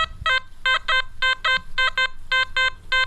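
A metal detector set to low reactivity gives a rapid series of short, evenly spaced electronic tones over a pull tab in a test garden, loud and close with no talk.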